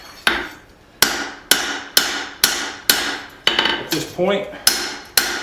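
A hammer planishing a forged tomahawk head on an anvil: sharp ringing metallic blows at a steady rhythm of about one strike every half second, close and loud, with a brief spoken phrase in the middle.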